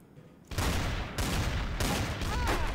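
Gunfire erupts in the game Trouble in Terrorist Town as loud, rapid bursts of shots that run almost continuously after a quiet start, close and dense.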